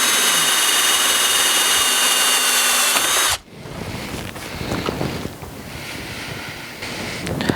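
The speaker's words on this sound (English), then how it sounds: "now we have our pole hole drilled into the top of the pillar" A power drill bores a pole hole into the top of a pillar with a loud, steady whine for about three seconds, then cuts off abruptly and leaves a rough rustling noise.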